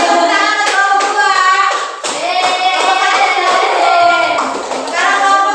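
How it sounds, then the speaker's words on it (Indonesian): A classroom of students claps for a group at the front, a dense, lively patter of hands mixed with children's voices and chatter for several seconds. "Oke, tepuk tangan untuk kelompok dua."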